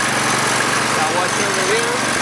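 A Big Chair mower's engine runs steadily with the idler pushed in to drive the transmission and spin a tire, a constant close mechanical drone while someone talks over it.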